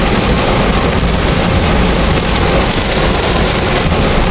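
Very heavy rain pours down in Ortigas, a loud unbroken wash of drumming and hiss on surfaces, steady and close throughout with nothing else over it.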